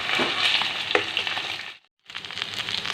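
Onions sizzle loudly in oil left from frying fish in a pan, a dense close crackle with a brief cut of silence midway before the frying resumes.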